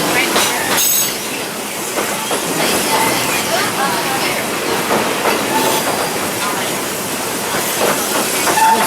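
Walt Disney World Railroad steam train in the Magic Kingdom runs steadily along its track, a continuous loud hiss and rumble with rhythmic wheel clatter and puffs, while a narrator's voice talks over it.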